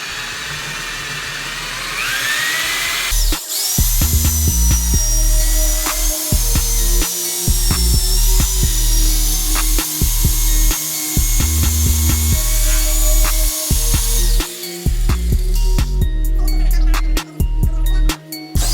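A power polisher spreads wax over a car body on its low setting, making a loud, steady whine that starts up after a few seconds and carries on with small clicks and bumps as it moves across the panel.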